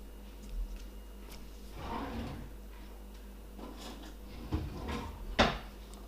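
Drawer being opened and rummaged through while looking for scissors, a few soft wooden knocks and rattles scattered across several seconds with a sharper clack near the end, fairly close in a quiet room.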